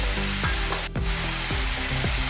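Spice paste for kosha mangsho sizzling and frying in a pan after chili and turmeric water is added, a steady close hiss broken by regular scraping stirs about every half second.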